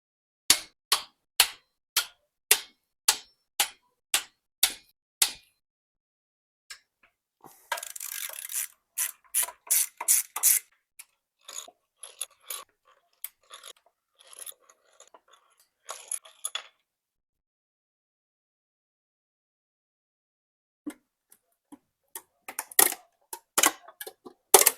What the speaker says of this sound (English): this looks like the perfect time to start undoing the head bolts and to remove the cylinder head altogether